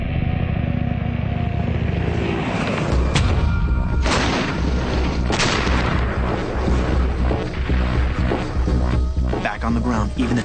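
Artillery cannon firing in a military setting, several heavy booms and sharp blasts over rumbling machinery, with a narrator speaking over much of it.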